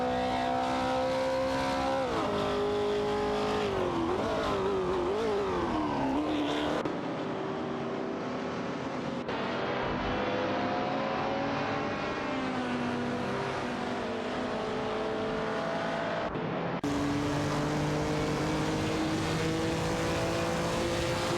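Race car engines in an AI racing video game rev and shift continuously, rising and falling in pitch with abrupt gear changes, loud and close throughout.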